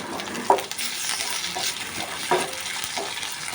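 Ginger garlic paste and curry leaves stirred in a hot pan give a steady low sizzle, broken by a few light clinks and scrapes of the spoon, heard close and alone.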